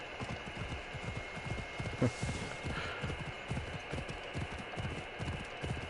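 A horse's hooves clip-clop at a steady, rapid rhythm as it gallops across terrain in Assassin's Creed Odyssey, the even beat continuous and prominent over a low ambient game hum.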